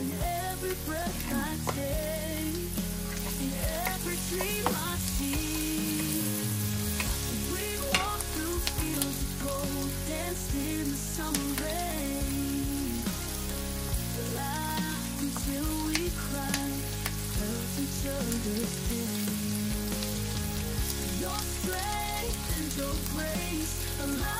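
Yakisoba noodles stir-fry in a hot pan with a steady, dense sizzle and frequent scraping and tossing, loud and close throughout, with no voices.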